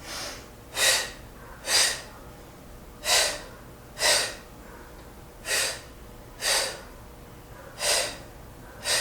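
Steady rhythmic breathing during a yoga twist, with forceful airy breaths coming about once a second, strong and close to the microphone, with quiet background between them.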